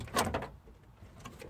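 At a junkyard, a car door with no handle is forced open from inside, giving a sharp metallic clunk and rattle followed by faint shuffling and low background noise.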